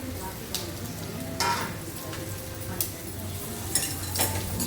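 Taro root frying in a pan for a tamarind curry gives a steady soft sizzle, with a few louder clinks and scrapes from stirring at intervals.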